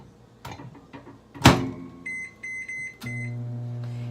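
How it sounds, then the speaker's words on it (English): Microwave oven heating a dish of asparagus seasoned with hoisin: a door thump and keypad beeps, then a steady low hum as it starts running, close by with no talking. "I'm gonna put this in the microwave for 2 minutes."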